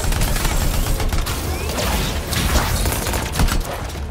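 Gunfire in the video game Anthem comes as a dense, loud fusillade of rapid shots and mechanical clatter, with a few heavier booms mixed in, filling the whole stretch without pause.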